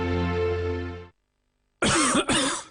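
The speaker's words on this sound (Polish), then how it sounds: "Kaszel suchy? Kaszel mokry?" In a 2008 TV advertisement, a single sustained, droning tone stops abruptly, then after a short silence a loud, harsh cough bursts out close up.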